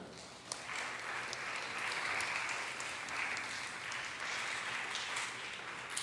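A church congregation at a Sunday service in Jeju claps together in steady, sustained applause that stays fairly even for several seconds in a large room.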